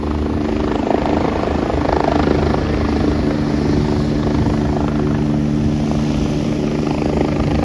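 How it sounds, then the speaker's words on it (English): A helicopter taking off, its steady rotor drone with a low, throbbing engine hum, loud and close, holding constant with no voices. "it looks like this helicopter's about to take off"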